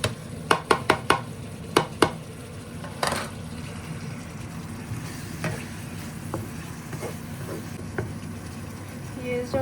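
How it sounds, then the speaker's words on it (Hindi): Chopped onions tipped into a pan of frying garlic paste, first with a few sharp clinks and knocks of a utensil, then a steady sizzle of frying. "इसके साथ ही जो प्याज मैंने चॉप करके रखी हुई थी वो डालेंगे"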